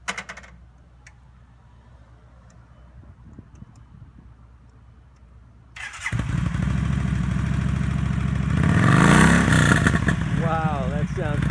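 A used 2011 Yamaha V-Star 1300 V-twin heavyweight cruiser sits quiet with faint clicks, then cranks and fires about halfway through into a loud, lumpy, steady idle that swells briefly and stays strong to the end.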